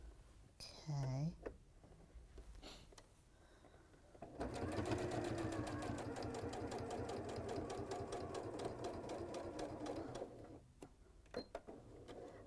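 A sewing machine runs steadily for several seconds, double stitching the ends of fabric seam joins, with soft talk before and after.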